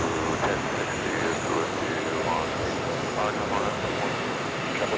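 An airplane arriving on runway 22 left at New York's JFK airport gives a steady, broad roar that holds evenly for the whole stretch, with faint talk underneath.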